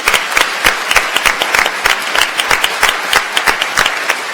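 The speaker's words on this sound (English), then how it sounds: "Let's give them a round of applause." A crowd applauds at a Minneapolis mayoral candidate forum, dense clapping from many hands, steady and fairly loud throughout, with no talking over it.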